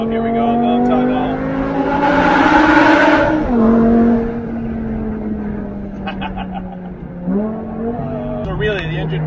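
BMW M6 engine revving inside a road tunnel, a loud, close, sustained engine note with rising and falling pitch that echoes off the walls, with a person talking over it.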